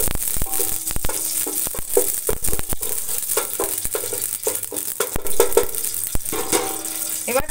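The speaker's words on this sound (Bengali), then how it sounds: "দেখো তেলের মধ্যে এরকম তেজপাতা গোটা গরম মশলা এরকম সব দিয়ে নিচ্ছি এটাকে একটুখানি ভেজে নেবো" Bay leaves and whole garam masala fry in hot oil, giving a steady loud sizzle with scattered crackles and the scrape and rattle of stirring throughout, close up with no talk.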